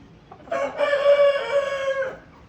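A single rooster of a 90-day-old meat flock of Spanish, Redbro and Master Grey breeds crows loudly nearby, one long drawn-out call lasting over a second, with faint farmyard sounds around it.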